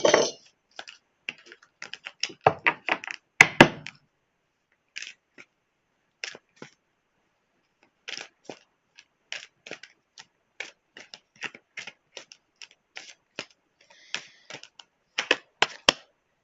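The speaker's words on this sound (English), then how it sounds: "I'm going to pull some chakra cards" Chakra cards being shuffled and pulled, quick papery flicks and taps in short irregular bursts separated by silent gaps, close and fairly quiet.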